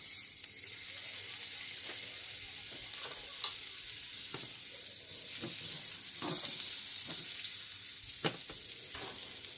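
Salmon patties frying in a pan with butter and olive oil, a steady close sizzle with scattered pops and crackles throughout, no talking.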